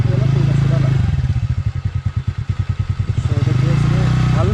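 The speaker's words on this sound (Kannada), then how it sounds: "You can check the sound. So ಗಾಡಿ ಚಾಲೂ ಮಾಡಪ್ಪಿ" A TVS Ntorq 125 Super Squad Edition scooter engine runs close by with a rapid, steady pulsing idle that rises and settles, with people talking over it.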